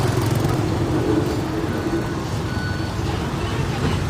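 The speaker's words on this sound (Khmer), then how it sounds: "ឡានតូចឡានធំឡានដឹកដីមកអស់ហើយបាទ" Trucks, small cars and earth-hauling lorries crowd a road during an evacuation, a continuous engine rumble and traffic roar with a repeating reversing beep.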